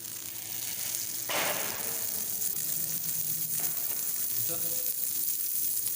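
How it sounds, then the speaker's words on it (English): Butter melts in a hot pan before green beans are added, giving a steady broad sizzle and hiss, close and continuous, with a louder burst of frying near the start. "Then you have to add the butter in the pan."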